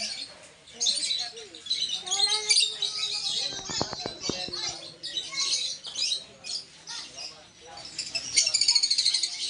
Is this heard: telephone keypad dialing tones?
no